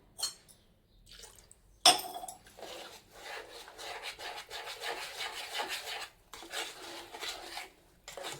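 Semolina dosa batter is stirred in a bowl, giving a steady wet rubbing and scraping with a sharp clink near the start, continuing fairly close with brief pauses.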